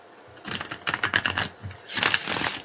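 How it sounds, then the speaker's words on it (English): Ken Boggle shuffles a deck of playing cards, producing two quick bursts of dense riffling clicks and rustle, close and fairly loud, with a brief pause between them. "Ken is shuffling the cards."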